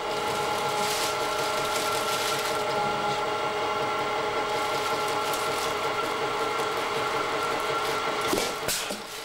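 A haggis filling machine runs steadily as it packs haggis into bags, giving a continuous close mechanical drone with whirring motor tones and a brief clatter near the end.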